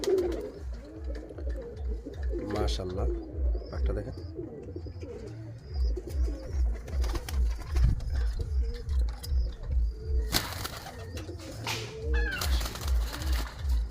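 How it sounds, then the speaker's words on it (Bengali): Pigeons from a breeder's loft, a mother bird near a cage holding her son, coo in a steady low rhythmic pulse that runs the whole time, close and clear, while someone talks over them. "তো এই কবুতরটা একটু আপনাদের দেখাই"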